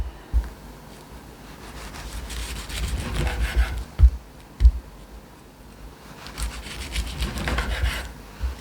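A knife makes a quick slicing cut through a sushi roll, heard as soft, close sawing and rasping with a few dull thumps against the board.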